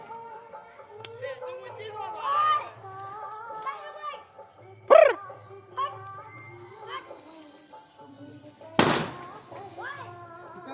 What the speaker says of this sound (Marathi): फटाके आहेत. हा बॉम्ब आहे फटाकडा आहे